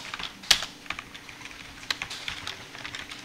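Computer keyboard keys are tapped for copy-and-paste while servo positioning commands are set up, with one sharp loud click followed by scattered lighter taps at an uneven pace and no talking.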